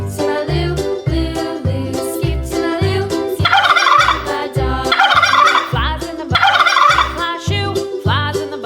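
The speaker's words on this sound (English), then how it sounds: "it's a turkey." A turkey gobbles in loud, rapid repeated bursts, its rattling calls close and clear, coming in several rhythmic runs with no other sounds around them.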